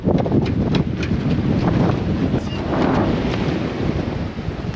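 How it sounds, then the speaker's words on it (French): Strong wind gusts buffet an anchored sailboat, a loud rushing roar with rattling and slapping noises, surging and easing throughout. "Ça souffle bien, je vous montre."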